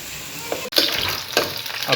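Onions frying in oil until golden for an egg curry, a dense close sizzle with a few stirring scrapes and clinks of the spoon, no voices.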